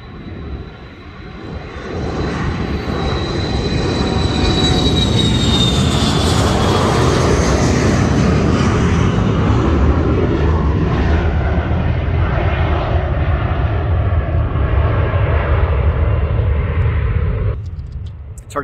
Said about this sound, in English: we'll finish off this video with this cool jet taking off